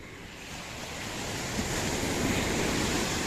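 Rough sea surges onto a beach after a high tide, a steady broadband roar of breaking surf mixed with wind buffeting the microphone, building slightly louder over the few seconds with no voices.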